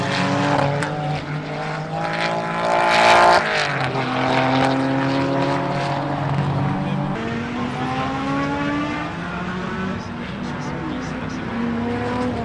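Classic rally cars from the Tour Auto 2022 drive off one after another, with loud, revving engines whose pitch climbs and drops as they accelerate and shift. A continuous close roar fills the clip, with some background voices.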